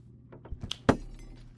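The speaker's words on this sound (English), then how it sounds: "He's blowing the lights up." Lights blown up by a ghost in a ghost-hunting video game, heard as a few soft knocks and then one sharp crack of breaking glass over a low hum.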